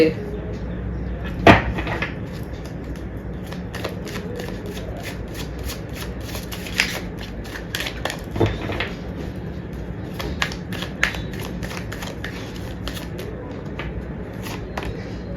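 Tarot cards are shuffled with soft riffling and flicking near at hand, broken by sharper taps as cards are drawn and laid down, while a voice talks over them throughout.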